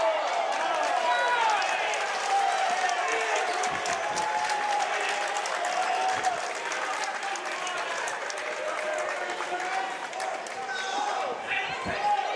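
Dense basketball arena crowd roar with scattered applause and shouting fans, a continuous loud wash of voices close around, with a few sharper sneaker squeaks and thuds poking through.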